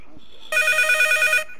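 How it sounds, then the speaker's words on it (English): A telephone in a Rec Room horror video game rings with one bright, close burst of electronic trilling, lasting about a second, with nobody speaking over it. "Pick up the phone, Jit."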